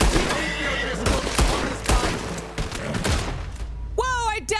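A horse in a video game lets out a sharp neigh near the end, after a stretch of loud gunfire-like bursts and game noise.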